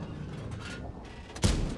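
A single heavy tank gun shot in World of Tanks, from a T95/FV4201 Chieftain, booming once near the end of a low rumbling battle background with no talking.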